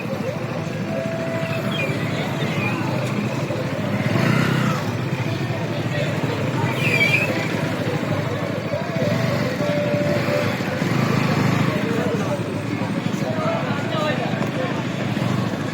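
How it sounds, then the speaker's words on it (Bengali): A motorcycle engine hums steadily close by for the whole stretch as it is parked at a beach, with light voices and outdoor background noise mixed in. "এই যে গাড়ি এখন পার্কিং করছে এখানে।"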